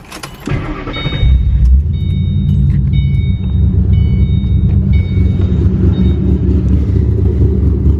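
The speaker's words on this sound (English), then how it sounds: "For Performance Panhard camshafts, Pypes long tube headers, the off-road H-pipe, and the Borla S-type Stingers, we get this majestic sound." A Ford Mustang with Panhard camshafts, Pypes long tube headers, an off-road H-pipe and Borla S-type Stinger mufflers starts up and settles into a loud, deep, rumbling idle, close and steady.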